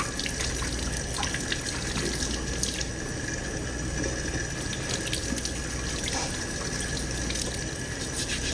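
Tap water runs steadily into a sink while cucumbers are rinsed for fermented pickles, a continuous close splashing stream with faint handling sounds and no speech.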